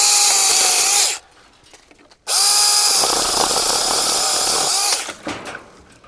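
A TomyVic mini battery chainsaw whines at high speed as it cuts peach tree branches, in two loud bursts split by a short quiet pause, the second cut running longer before tapering off.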